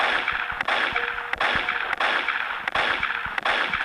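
Gunfire in the Roblox game Area 51, rapid repeated shots in bursts of sharp cracks over a dense, continuous game din.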